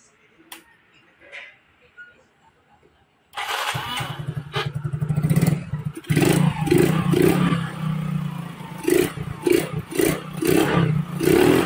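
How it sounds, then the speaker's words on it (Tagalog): After repairs, a motorcycle with a check-engine fault starts with a few clicks and then a sudden loud ignition, settling into a close, rumbling idle with repeated rhythmic revs and some clattering. "Subukan uli natin paandarin."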